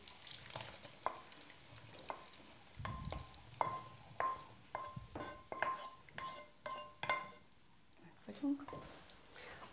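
Fried bacon from a kitchen pan is strained, giving scattered clinks and scrapes of utensils against metal with faint sizzling, close and fairly quiet, while a person talks throughout.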